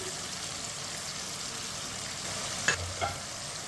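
Onion, crushed ginger and crushed garlic fry in a pan over medium heat, producing a constant even sizzle, with one or two brief scraping stirs near the end and no talk.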